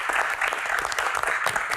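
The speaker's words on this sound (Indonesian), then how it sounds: "Tepuk tangan dulu." Audience applause during a live Q&A event, dense steady clapping from a crowd held at an even level throughout, with no talk over it.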